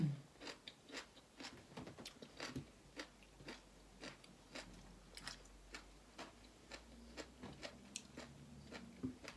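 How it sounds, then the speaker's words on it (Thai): Close, crisp crunching of pickled spider flower greens eaten with Thai green papaya salad and carrot: a long run of sharp, evenly spaced bites, about two per second, loud and intimate against a quiet background. "ฟังเสียงหย่ำเด้อพี่น้องเน้ะตำส้มตำใส่ไอ้นั่น ใส่ แครอท เสียงเคี้ยวกรุบกรุบกรุบ"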